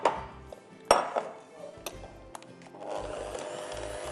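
Caramel mousse ingredients being mixed by hand in a bowl, with scattered utensil clinks and scraping knocks among soft, intermittent stirring sounds, fairly close and quiet.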